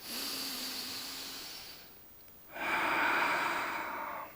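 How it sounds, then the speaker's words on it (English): Slow, deep yoga breathing in downward facing dog: a long airy breath fades into a short pause, then a fuller, louder breath follows, close and steady with no talking. "So we're back into that nice deep breathing."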